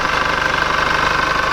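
Chevrolet Colorado truck engine idling close by, a steady, even rhythmic thrum with a faint ticking pulse, brief and continuous with no voices.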